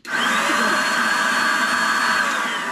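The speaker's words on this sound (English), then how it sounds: "It makes more noise than our Mealy vacuum, and but it does shoot a stream of air" An electric duster blasts a steady, loud stream of air in one continuous high-pitched whine, starting abruptly and holding even throughout, louder than a household vacuum.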